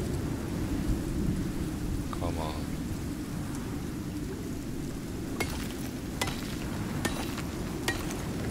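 A steady roar of heavy rain and storm wind fills a thunderstorm in the video game Icarus, with a few sharp crackles in the second half and no clear speech.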